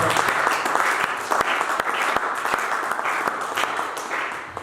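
Congregation at a French-language church service applauding together, a dense steady wash of many hands clapping with sharp individual claps standing out, continuous and fairly loud throughout.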